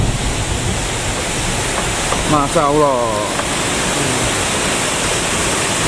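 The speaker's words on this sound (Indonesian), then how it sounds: "Indahnya air terjun di hutan Petung" Rushing water pours steadily in a constant loud roar of a waterfall in the Petungkriyono forest, Indonesia, with a brief exclamation spoken partway through.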